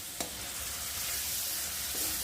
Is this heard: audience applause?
no